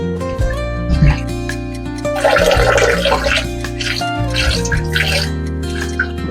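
Prawns rinsed under a running kitchen tap, with splashing water, sloshing and clinking of the shellfish in a container, loud and close throughout.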